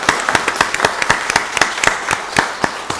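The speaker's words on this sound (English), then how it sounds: "Give them all another round of applause." Applause for county commissioners at a Board of Commissioners meeting, heard as sparse, distinct claps from a small group, landing in a fairly steady rhythm close by.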